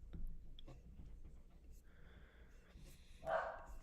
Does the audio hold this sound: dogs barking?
yes